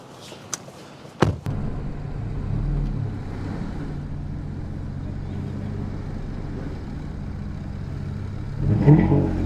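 A Toyota Tacoma truck engine drones low and steady during a pull, with a few sharp knocks early on and the revs swelling louder near the end.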